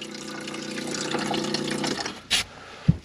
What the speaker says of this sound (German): So, und jetzt machen wir den an. So, und schon kommt unser Wasser da raus.